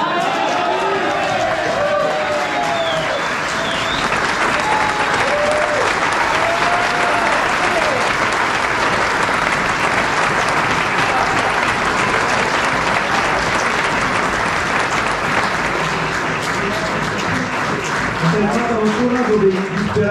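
An audience bursts into loud, sustained applause, a thick continuous clatter of clapping from many hands with faint cheering mixed in, holding steady for the whole stretch.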